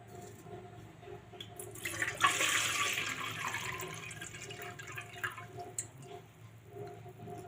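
Water poured into a pot for making wheat papad dough, a gurgling splash that rises and then trickles off into drips in a quiet kitchen.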